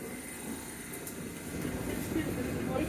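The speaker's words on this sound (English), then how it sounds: "District line train to Upminster." A London Underground District line train runs toward Upminster, a continuous low rumble and rattle that swells slightly toward the end and carries on without a break.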